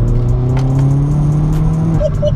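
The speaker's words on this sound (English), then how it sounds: "the roar of like the fighter jet sound coming out of the back of it when it comes on boost" A tuned 297 bhp Vauxhall Astra VXR exhaust roars nearby as the engine climbs under turbo boost on a back road, a droning note with a rising whine, followed by a couple of brief chirps.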